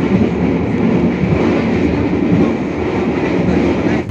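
Continuous rumble and rattle of the Bengawan passenger train in Indonesia heard from inside, approaching Wates Station, steady and loud throughout with no voices.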